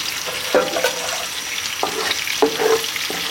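Bacon fries in a pan of rendered grease on the heat, giving a continuous sizzle broken by a few scraping, clattering stirs as the pieces are moved about.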